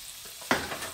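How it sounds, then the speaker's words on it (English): Peppers and onions sauteing in bacon fat in a pan, a close sizzling fry that jumps suddenly louder midway as food hits the hot fat, then keeps crackling. "I'm going to saute that up."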